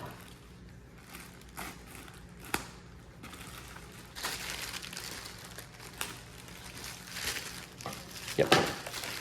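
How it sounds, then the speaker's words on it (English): Plastic packaging around a Bambu A1 mini 3D printer being cut and pulled off, with crinkling, rustling and scattered sharp snaps and crunches during unboxing, fairly quiet and close, with faint voices in the background. "Can you cut the plastic all the way through, Benny?"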